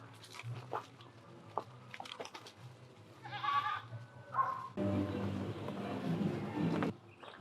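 Goats bleat a few times with wavering, nasal cries in a bushy rural yard, mixed with other clattering and a loud burst of broadband noise partway through.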